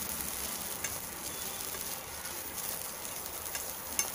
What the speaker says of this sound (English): I'm going to now saute it for just about 2 minutes